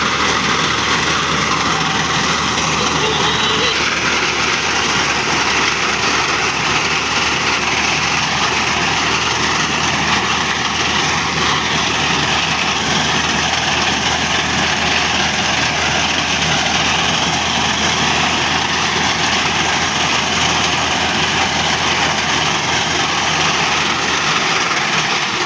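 A Massey Ferguson 240 tractor runs with a Daska-made reaper cutting wheat, giving a steady, unbroken engine drone with a bright whirring edge throughout and no voices.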